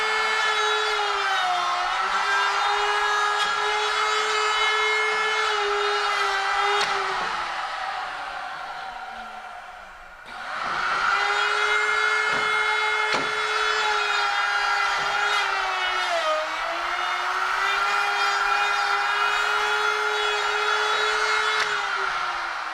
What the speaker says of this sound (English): only hits one button on the carriage to sequence the carriage through each step, through the dropping, through the clamping, and then the unclamping and lifting up.